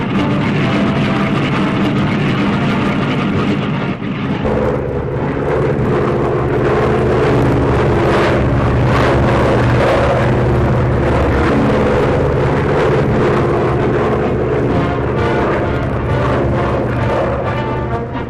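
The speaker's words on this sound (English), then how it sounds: "Many hours of training are spent in patrol boats like this one" Navy patrol flying boat of the 1930s, forerunner of the China Clipper type, a loud continuous propeller engine drone that steadies into a deep throbbing roar for the whole stretch.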